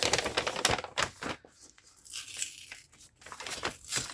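A paper grocery bag is pulled and torn apart by hand up close, with irregular bursts of ripping and crinkling paper separated by short pauses.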